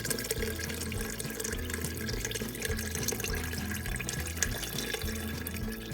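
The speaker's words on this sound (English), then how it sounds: "Now we're just gonna cover it with water, just enough that the beans are covered." Water pouring steadily over dry red beans in a pressure cooker pot, a continuous close splashing and gurgling with no talk over it.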